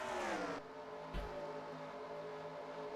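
NASCAR race car engines in NASCAR Racing 2003, a high-pitched revving roar that swoops down as a car passes, then a steadier engine drone that continues to the end.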